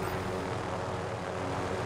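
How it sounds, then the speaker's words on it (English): A helicopter in the Warzone video game flies close by, its engine and rotor making a loud, steady drone that fills the whole moment with no break. "There's a chopper up here."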